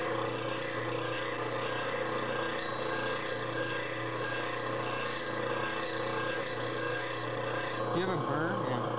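Steady close rasping of a knife edge being worked across a sharpening stone, a continuous scraping texture lasting throughout with a low hum underneath and a brief change near the end.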